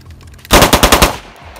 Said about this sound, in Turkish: otomatikte dediğim gibi parmağınızı tam soktuğunuz zaman bu şekilde atış yapabilirsiniz